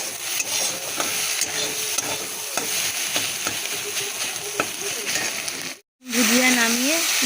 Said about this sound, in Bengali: চিচিঙ্গা ভাজা বসিয়ে দিয়েছি।